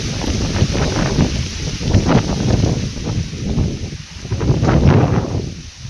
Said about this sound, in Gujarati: પવન પણ ચાલુ થઈ ગયું